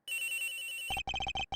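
In the Ace Attorney Investigations video game, a cell phone ringtone plays a sustained electronic tone, then breaks into a quick series of loud, evenly pulsed beeping rings with short pauses between them.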